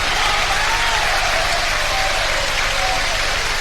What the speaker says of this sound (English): the Swindon fans were joining in with that round of applause as well